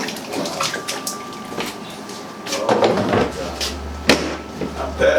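A king cobra is put into a can of lukewarm water; water sloshes and splashes amid clattering handling noises and a low hum, with a few sharp knocks near the end.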